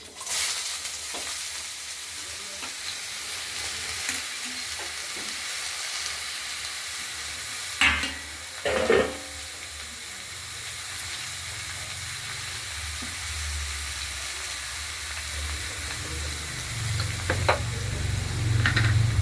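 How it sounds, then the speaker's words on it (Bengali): Bottle gourd pieces dropped into a pan of fried spices set off a steady, close sizzle with a few stirring clatters midway, the frying swelling louder toward the end. "মশলা আমার ভাজা হয়ে গেছে, লাউগুলো দিয়ে দিচ্ছি"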